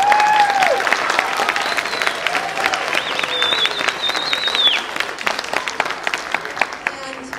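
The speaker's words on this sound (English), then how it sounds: "we applaud you for that" A school audience claps warmly at an elementary winter chorus concert, a dense patter of hands with voices and bright whoops rising over it, running steadily throughout.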